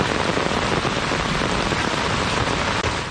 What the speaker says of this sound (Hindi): शहर पर काली घटाएं छाईं और खूब जमकर बरसीं।